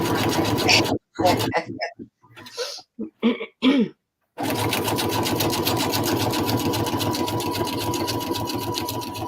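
Sewing machine stitching, a rapid buzzing needle run that starts and stops in short bursts around a throat-clearing cough, then a long steady close run to the end.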